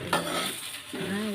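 Chicken biryani with rice and sauce being stirred in a pot, a brief scrape and shuffle of the spoon over soft sizzling, with a faint tonal clink near the end.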